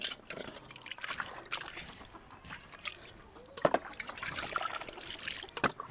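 Clean water trickles and splashes unevenly as a scrubbed cooking pot is rinsed, with soft drips and small pours at close range, quiet overall.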